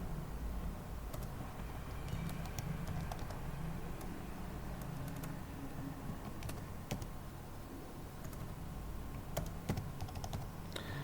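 Typing on a computer keyboard in a classroom computer lesson, a soft rapid patter of key clicks over a steady low room hum, with a few sharper taps scattered through, close but fairly quiet.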